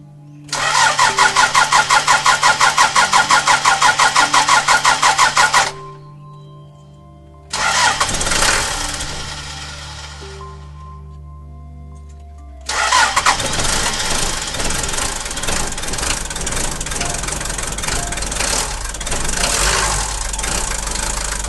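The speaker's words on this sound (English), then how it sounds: "I've just installed 4 new glow plugs. Now to test out and see how it starts." Diesel bus engine with four new glow plugs cranking in a rapid, rhythmic churn, stopping, then a rough short attempt, and finally catching into a loud, steady, knocking idle close by.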